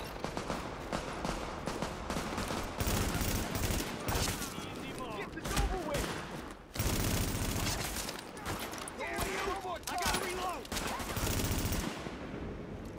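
Sustained gunfire in the shooter game The Division, dense bursts of automatic fire with brief gaps, under a voice speaking throughout.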